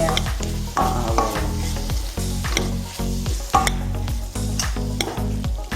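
Chopped tomatoes fry and get stirred in a pan for a tomato egg bhaji: a loud steady sizzle broken by repeated scraping and stirring strokes of a utensil, close up, with no voices.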